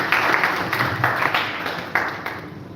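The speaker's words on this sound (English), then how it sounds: "Please, a Nigerian clap for the" An audience at an INEC media forum in Nigeria gives a Nigerian clap, loud bursts of clapping in rhythmic waves, fairly close and without speech.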